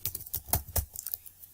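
Fingers typing on a computer keyboard while entering text in MS Word, a quick irregular run of sharp close key clicks with no talk.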